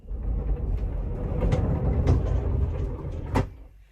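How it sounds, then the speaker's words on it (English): A vintage caravan drawer under the bed, lined with insulation, slides shut softly with a muffled rumbling glide and a few light knocks, no hard bang. "the insulation acts like a bit of a soft close, so it doesn't bang when it closes"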